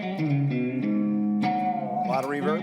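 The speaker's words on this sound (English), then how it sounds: "Let's go with a little reverb here." An electric guitar through a beginner practice amp plays a short phrase with reverb applied, notes ringing and blurring into a spacey tail, fairly clear and close for under three seconds.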